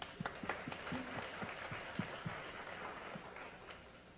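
Sparse, scattered clapping from a lecture audience applauding themselves, fairly quiet and irregular, with a few sharper claps standing out over a low hum.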